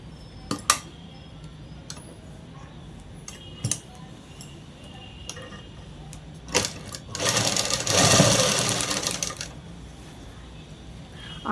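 Sewing machine running a double stitch on fabric: scattered clicks and taps, then a short loud burst of stitching, heard close in a quiet room.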